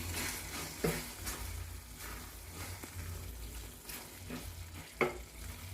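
Curry of ridge gourd and prawns, finished with a pinch of garam masala, being stirred in a hot pan: a soft continuous sizzle and fry with a few sharp spoon scrapes and knocks against the pan, close and fairly quiet.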